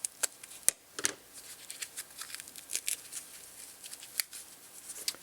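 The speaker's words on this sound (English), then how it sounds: "this little foam packaging material that I'll try and cut apart without busting anything" Crisp snipping and cutting strokes through small foam packaging material from a Eurorack module kit, irregular and close, with light rustling between cuts and no voices.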